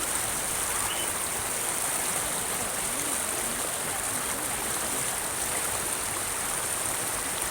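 A strong waterfall stream pours and rushes in a steady, dense roar up close, unbroken throughout with no voices.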